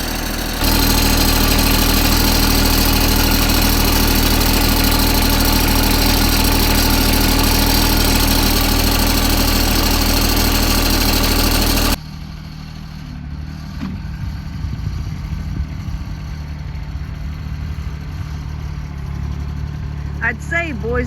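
A tractor engine runs loud and steady at close range with a constant droning rumble, then the scene cuts to a quieter stretch where the engine sound is lower.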